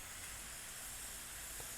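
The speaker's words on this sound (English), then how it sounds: "you can see some steam coming out here" Steam hisses from an Afghan Kazan aluminium pressure cooker with onions cooking inside, a steady dense hiss that holds unchanged throughout with no talking.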